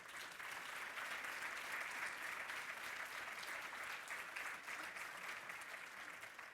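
An audience at a school performance launch applauds a group of students, a steady, even wash of clapping that is somewhat distant and continues throughout.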